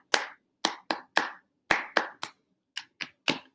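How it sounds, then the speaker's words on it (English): Hand claps mixed with pats land in a repeated short rhythmic pattern, about ten crisp, close hits in groups with brief gaps between them, in a quiet room. "So I did 3 claps and a pat."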